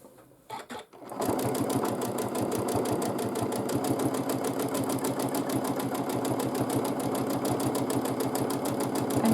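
A sewing machine does free motion quilting. After a couple of faint clicks it starts up and runs at a steady fast pace, a loud, close, continuous mechanical whirring hum with rapid needle pulses throughout.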